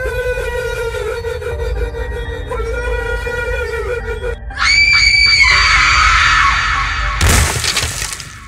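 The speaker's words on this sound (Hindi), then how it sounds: "और फिर एक बार फिर से अंदर से चीखने चिल्लाने की आवाज आने लगती है।" Screaming and shouting from inside a room of a haunted bungalow in a cartoon horror story, loud harsh shrieking voices bursting in over music, followed by a crash like breaking glass near the end.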